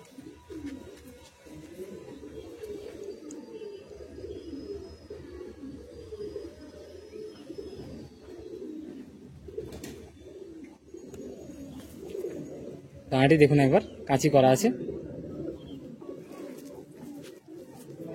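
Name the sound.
Andhra Pradesh Kalchira high-flying pigeon cooing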